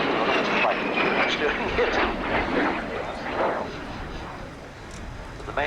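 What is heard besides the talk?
Synchro Pair display jets flying crossover break at airshow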